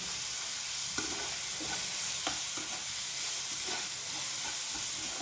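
Spicy egg fried rice with chilli powder and pepper being stirred and fried in a pan: a steady close sizzle with repeated scraping stir strokes throughout, no voices.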